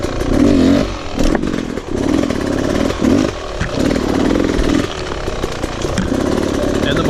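Enduro motorcycle engine running steadily while riding, a loud continuous buzzing drone with slight surges throughout, close to the rider.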